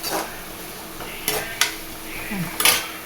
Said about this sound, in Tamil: நல்லா ப்ரௌன் கலராக வர்ற வரைக்கும் வறுக்கலாம் வெங்காயத்தை.